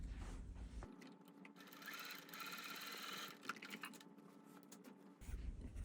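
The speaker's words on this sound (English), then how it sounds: "then we'll sew right next to that line" A sewing machine runs in one continuous burst of rapid mechanical stitching through quilt fabric, starting and stopping abruptly in an otherwise quiet room with no speech.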